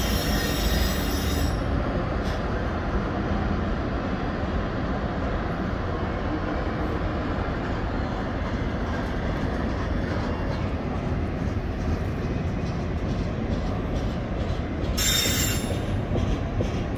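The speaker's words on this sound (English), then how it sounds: "Beautiful sounds of metal on metal." A CN freight train moving through the Pointe-Saint-Charles railyard produces a continuous, loud metal-on-metal wheel squeal with rumbling rolling noise underneath, holding steady throughout and sharpening in shrill bursts at the start and end.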